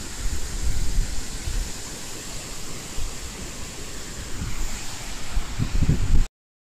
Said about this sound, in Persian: دبی آب خیلی زیاده.